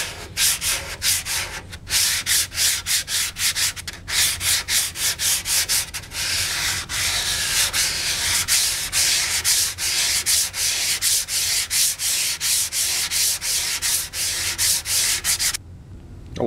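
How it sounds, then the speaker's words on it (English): Bondo body filler on a motorcycle restoration panel sanded with a soft block, steady rhythmic rasping strokes back and forth, close and loud, continuing without pause for the whole stretch. "That is the best sanding Bondo ever."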